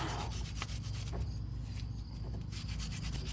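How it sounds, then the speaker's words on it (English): Close, steady scrubbing and rubbing while cleaning the brake caliper piston surface during a front brake pad and rotor job on a 2013 Chevrolet, with short repeated strokes and no talking. "be careful like when you're cleaning up the piston surface"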